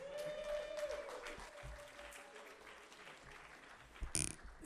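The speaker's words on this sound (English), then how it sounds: "you can give a round of applause for Jonathan" Applause from a conference audience at a Bitcoin scaling event, a steady wash of clapping with a tonal whine and faint mechanical ticking mixed in, swelling briefly near the end.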